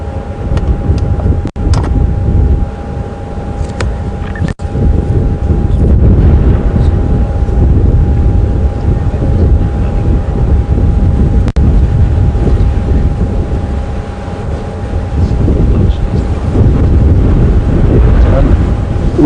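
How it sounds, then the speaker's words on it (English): Gusty wind buffets the microphone on an open safari vehicle at Djuma Game Reserve, a loud rumbling roar that rises and falls in long surges with a few brief dips, and no talking is heard. "this wind's keeping them nice and cool"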